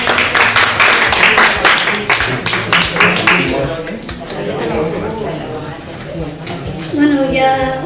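A crowd at a poetry gathering in Gandia breaks into a burst of dense clapping for the host. The clapping fades after a few seconds into overlapping chatter and voices.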